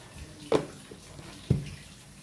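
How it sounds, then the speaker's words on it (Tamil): Water poured into a cooking pan of thirukai fish curry, two short splashy bursts about a second apart over a quiet background hiss. "இதுக்கப்புறம் கொஞ்சம் தண்ணி ஆட் பண்ணிக்கணும்"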